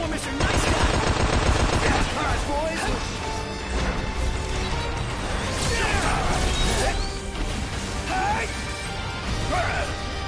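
Launcher weapon firing in Final Fantasy XV, heard as loud, repeated crashing blasts and impacts packed into a dense, continuous game soundscape, with a voice talking over the action.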